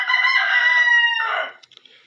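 A loud, close rooster crow rises and trails off, followed by a few brief clucks.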